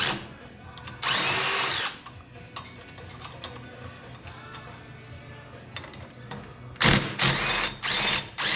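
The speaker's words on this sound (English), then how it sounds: "I love this drill." A handheld power drill runs in two loud bursts, one lasting about a second near the start and a longer, choppier series of pulses at the end, with quiet rattling in between and no talking.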